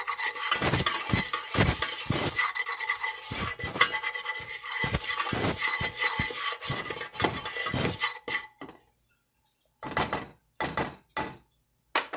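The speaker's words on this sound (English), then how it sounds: "Give that a little stir." Gnocchi casserole ingredients with pepper being stirred in a pan, a close run of uneven scraping and clinking of a utensil against the pan, then brief pauses and a few final strokes; no talking.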